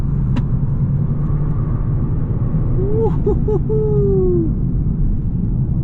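A Genesis G70 3.3T AWD sedan accelerates hard, its engine a loud, steady drone heard from inside the car, with a brief tonal whine partway through.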